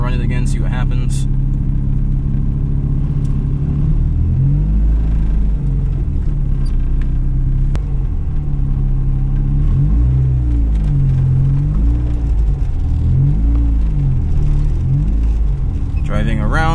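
A car idles and revs in a steady, loud, low rumble at a drag strip, with the engine pitch rising and falling several times. People talk over the engine throughout.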